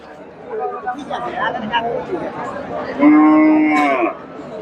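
Cows at a busy cattle market in Chandaikona, one moo rising loud and close for about a second amid steady crowd chatter and a nearby talking voice.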